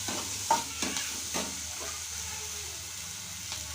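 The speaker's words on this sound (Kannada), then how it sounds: "ಸ್ವಲ್ಪ ಅರಿಶಿನ, ಜೀರಿಗೆ ಎಲ್ಲ ಹಾಕಿ ಮಿಕ್ಸ್ ಮಾಡ್ಕೊಳ್ಳಿ." Turmeric and cumin are stirred in a pan, giving a few scraping, clattering strokes in the first second and a half over a soft steady frying hiss that then continues quietly alone.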